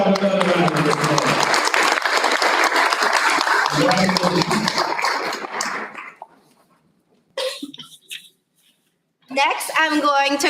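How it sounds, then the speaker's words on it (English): A round of applause at a school board meeting honoring students: dense, loud clapping from a crowd for several seconds with a voice speaking over it, then fading into quiet and brief speech. "Let's have another round of applause."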